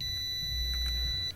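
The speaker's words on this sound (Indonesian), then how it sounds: "kita gunakan lagi ampermeter atau multitester di mode buzzer" A multimeter in buzzer continuity mode sounds one steady high-pitched beep for over a second while testing a damaged power strip's wire, then cuts off, with low background hum.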